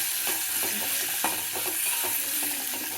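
Turmeric and tamarind sizzle steadily in hot oil while being stirred, a continuous close frying hiss broken by soft scraping stir strokes, with no talking.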